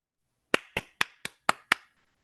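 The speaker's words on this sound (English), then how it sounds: "Thank you for clapping, Robert Hunter" Six sharp, evenly spaced hand claps ring out close and clear at an occult and paranormal panel event, each with a short decay, followed by silence.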